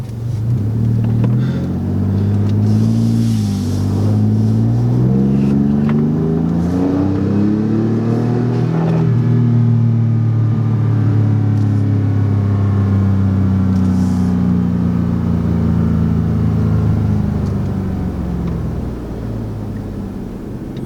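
A 2018 Ford F-150 pickup with a 10-speed automatic, accelerating hard in sport mode: a steady, loud engine drone climbing in pitch through the gears, with a brief dip at each shift, heard from inside the cab with no talk.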